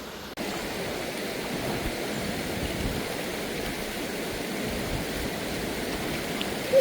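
Walawe river water flowing in a continuous broadband rush, fairly close and steady, with a brief bump at the very end.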